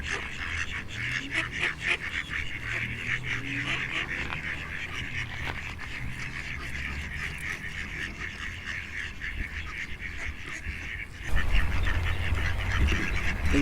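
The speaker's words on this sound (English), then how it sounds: "we'll feed some ducks, because we like animals" Ducks being fed outdoors quack and honk steadily at a moderate distance under a constant outdoor background. A louder rush of noise comes in near the end, and no one talks.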